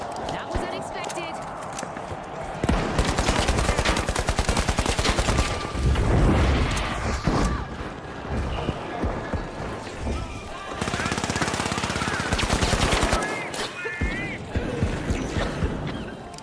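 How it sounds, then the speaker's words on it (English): Rapid gunfire in the shooter game Marathon, volleys of automatic shots and single cracks that come in loud stretches through the mix while someone talks over much of it. "I was shooting directly into this guy's head."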